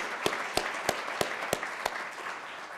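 Scattered audience applause at a conference honoring its sponsors, a few sharp individual claps standing out at a steady pace over a soft, continuous patter from the crowd.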